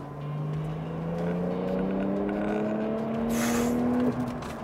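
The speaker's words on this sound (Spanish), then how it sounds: "Voy a pasar esta curva en 3, 2, 1, acelero a fondo." A 2021 Porsche 911 Turbo S with its six-cylinder boxer engine accelerating at full throttle out of a corner, the engine note rising steadily and loudly from a low drone, heard from inside the car.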